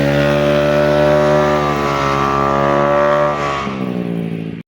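A truck roars past on the Marilaque mountain highway. Its loud, droning engine holds a steady pitch, then drops sharply as it goes by, and the sound fades quickly.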